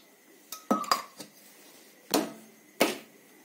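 A pan is set down on a stove while making sweet potato gulab jamun, with a handful of sharp metallic clanks and clinks spaced over a few seconds in an otherwise quiet kitchen.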